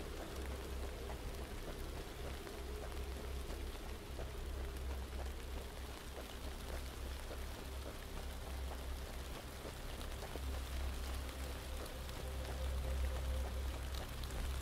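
Steady rain pours through a forest in the video game The Land of Pain, a dense, continuous hiss with low rumble underneath, constant and fairly loud throughout.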